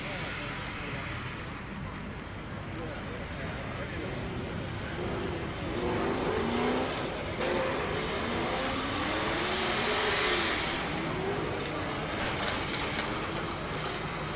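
A drift car at a British Drift Championship pro qualifying round in Birmingham roars continuously at a distance, its engine note rising and falling under steady commentary.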